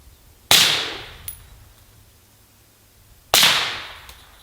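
Two sharp rifle gunshots fired through a PTR Vent 3 or Radical Defense LS 5 muzzle device, each a loud crack with a fading tail, about three seconds apart and heard alone.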